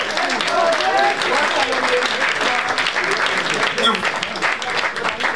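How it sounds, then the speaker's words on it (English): Applause from the audience at the Big Print Ball, a vogue ball, fills the room in a dense, continuous roar through the whole stretch, with crowd noise and voices shouting over it. "give her a round of applause"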